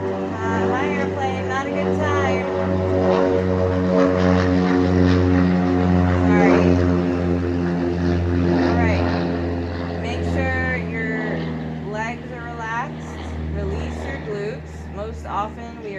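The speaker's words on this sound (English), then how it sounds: "Hi, airplane, not a good time." Propeller airplane flying overhead outdoors: a low, steady engine drone that holds throughout, heard beneath a person's continuous calm talking.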